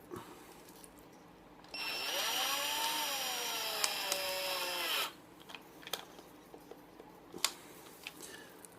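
A power drill spins up to twist 26-gauge coil wire for a micro coil, giving a steady, bright whine for about three seconds. It then stops, leaving a few scattered clicks and handling knocks.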